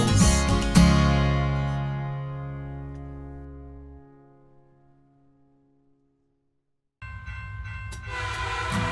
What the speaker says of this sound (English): Comes a train, choo choo, here comes a train.